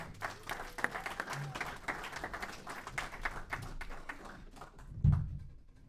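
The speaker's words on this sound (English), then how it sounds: "ladies and gentlemen, give a round of applause for Terry" An audience applauds a contestant at a live event, a dense spread of clapping that carries steadily for several seconds with some crowd noise mixed in, then a thump and a quick fade.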